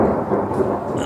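Low rolling thunder during a hailstorm in Stavropol, a continuous loud rumble filling the short moment with no voices over it.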